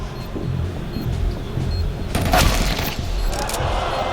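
Gunfire rings out during a Counter-Strike match at the IEM Katowice 2025 quarter-final, with a short burst of sharp shots over steady crowd and caster background noise.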